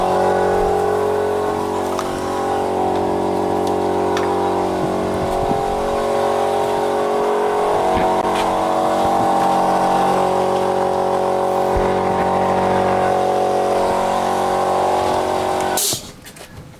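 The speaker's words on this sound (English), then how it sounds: "For the compressor I'm going to use, that I use when I do my videos, is under the lathe. It's very noisy when it gets it's pumping" Air compressor running beneath a lathe in a workshop, a loud steady pumping drone that holds constant, then cuts off near the end.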